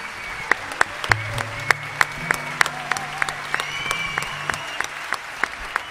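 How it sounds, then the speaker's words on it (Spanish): Live concert audience applauding steadily, a dense wash of clapping with sharp individual claps standing out, while a low sustained instrumental drone plays beneath. "Que ese aplauso sea más largo para recibir a un amigo"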